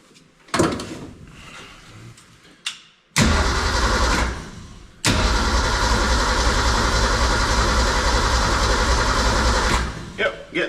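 A 1963 Ford Econoline van, dug out after three years of sitting, cranks in short bursts, then fires and runs with a loud, steady engine roar that keeps going to the end.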